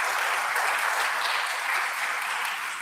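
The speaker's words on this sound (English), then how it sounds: "So a big round of applause to all the parents," Brief burst of steady audience applause at a Gita Camp presentation in a Palatine temple, a dense even wash of clapping from a gathered crowd, with no voices.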